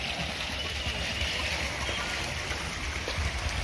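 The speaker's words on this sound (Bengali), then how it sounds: "এই দেখো কত স্পিডে জল।" Hot spring water rushing fast at Bakreshwar, a steady, loud, close gushing roar with no pauses.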